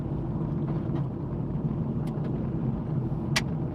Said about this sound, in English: I can hear the chips now, so I reckon that they have just sprayed it and stuck tar on it